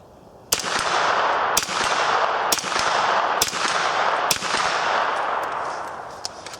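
A 9mm AR-15 fired at a steel target outdoors, five loud, evenly spaced shots about a second apart, each sharp crack followed by a long ringing tail that carries into the next shot.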